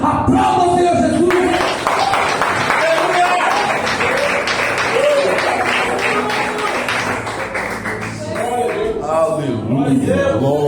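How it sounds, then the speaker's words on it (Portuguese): A church congregation applauds in a dense, loud wave of clapping that lasts several seconds and then fades, with voices shouting and talking over it near the end. "Aplauda o Senhor Jesus."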